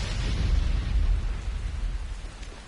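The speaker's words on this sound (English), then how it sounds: "Seriously, how long is this thunderstorm going on for?" Heavy rain from a thunderstorm in the Dying Light video game, a dense continuous wash of rainfall with low rumble, fairly loud and steady over a short stretch.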